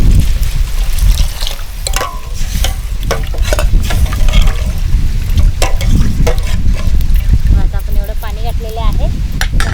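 Water is poured into a pan of sautéed ragi soup mixture, giving a sizzling, splashing sound with stirring clatter, under someone talking.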